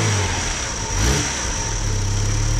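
A Fiat Punto engine with a weak battery revs in a steady, close drone, struggling to pick up speed and holding a sustained mid-pitched hum without voices.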